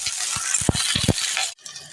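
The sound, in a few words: cauliflower and onion frying in pan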